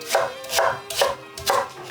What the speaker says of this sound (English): we're just doing all of our veg prep right now while we're here at the cutting board